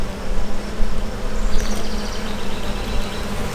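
Honeybees on hive comb buzzing in a dense, continuous close hum, the swarm drone steady and unbroken with no voices.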